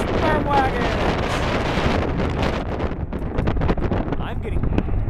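Strong wind in Atlanta buffets the microphone with a constant loud rumble, and a voice is faintly heard beneath the roar.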